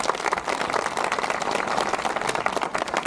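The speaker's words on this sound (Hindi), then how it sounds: "आए दोनों हाथों को लहरा कर यीशु के जलाल के लिए जोर से ताली बजाइए।" Congregation at a Christian worship service clapping loudly together, a dense, sustained wash of many hands throughout, with no clear voices on top.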